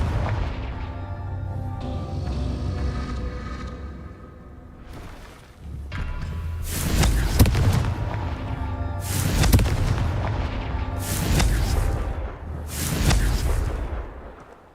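Confringo blasting spells in Hogwarts Legacy go off as a series of loud, sharp explosions, four or so heavy booms spaced a couple of seconds apart over a lingering rumbling background.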